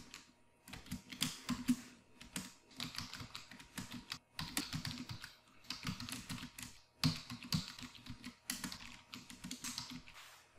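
Fingers type a comment on a computer keyboard in quick, uneven bursts of close, crisp key taps, pausing briefly between phrases, with no talking.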